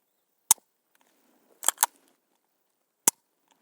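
Dry-fire trigger pulls on an Atlas Gunworks Apollo pistol: a crisp single click, a quick double click and another lone click, sharp and close against near silence.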